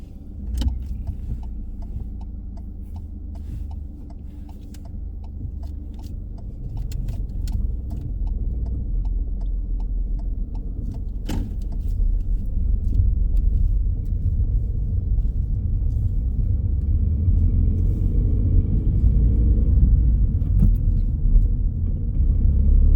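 A learner's car pulls away during a driving test; the engine rumbles steadily and builds as the car moves off, with a jingle of keys near the start and no talking.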